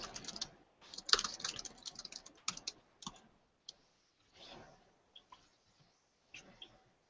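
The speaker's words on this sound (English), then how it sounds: "let me write a quick message to Laura." A computer keyboard clatters under quick bursts of typing as a message is written, close and crisp keystrokes that thin into scattered taps and pauses.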